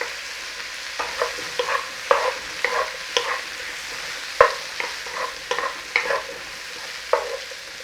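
Brussels sprouts with pancetta or bacon lardons frying in a pan, a soft continuous sizzle broken by repeated scraping and clattering stirs at irregular intervals, close and with no talking.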